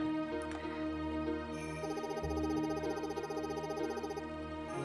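A frog in the video game Fields of Mistria croaks in a rapid, rattling pulsed call over layered game music, loud and close with no talking.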